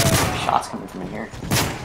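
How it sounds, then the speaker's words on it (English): Gunfire in a Call of Duty Modern Warfare 3 free-for-all match: a few sharp bursts of shots ring out at close to mid range, mixed with game effects and a player talking. "shots coming from in here."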